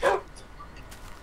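A single short dog bark from Minecraft, a clipped synthetic bow-wow at the very start followed by a faint quiet tail, with no talk over it.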